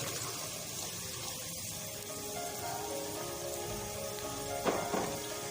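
Fish curry ingredients frying in a pan for masala fish curry, a steady broadband sizzle throughout with a brief louder crackle near the end; no talking.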